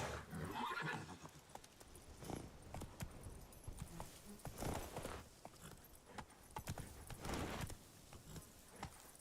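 Roach, Geralt's horse in The Witcher 3, whinnies close by over clopping hooves and jingling tack. The sound comes in uneven bursts at moderate loudness, with no talking.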